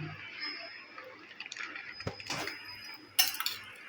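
A spoon stirring soaked urad dal and milk in a bowl, giving light scattered clinks and scrapes with a few sharper metallic taps, close and fairly quiet.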